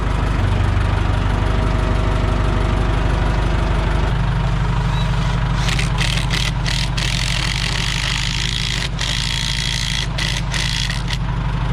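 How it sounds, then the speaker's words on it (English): A heavy tractor engine idles steadily and loudly throughout, its low rumble shifting to a deeper, steadier drone partway through, on a farm during barn repairs. "Plan is drive the tractor around."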